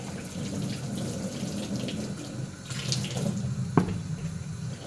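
Hot tap water runs steadily into a sink while produce is washed with vinegar and salt, a continuous hiss with a few soft splashes and one sharp clink near the end.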